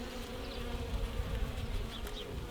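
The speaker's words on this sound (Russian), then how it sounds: "То есть пчелки есть." Honey bees buzz at a hive in spring after winter, a dense, steady hum of many insects close by, with a few individual bees briefly droning past nearer.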